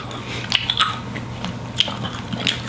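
Crunchy Halloween candy being chewed close up, a series of sharp crisp bites and crunches scattered over a few seconds as it softens toward chewing gum.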